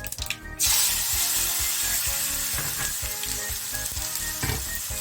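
Tomato pieces hit hot oil in a pan while cooking tindora shaak, bursting into a loud, steady sizzle that holds for several seconds.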